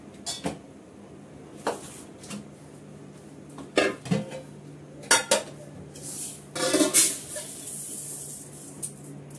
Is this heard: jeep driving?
no